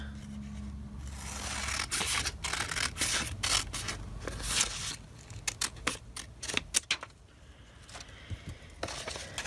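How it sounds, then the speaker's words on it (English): Scissors snip through paper in an altered book craft project with a butterfly theme, a series of crisp, close cuts in irregular bursts with rustling of paper between them and no talk. "I'll take it out, and then I'll cut again."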